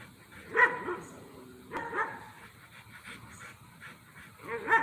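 A dog barks in short bursts, three clear yips spaced out over a few seconds, mixed with panting and a voice talking softly nearby.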